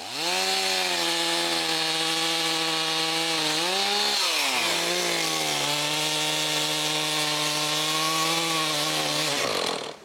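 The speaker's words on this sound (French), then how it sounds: "J'ai apporté ma grosse scie à chaîne et je coupe des troncs." A chainsaw runs loud and close cutting logs, its engine pitch rising and dipping as it bites into wood, cutting steadily for several seconds.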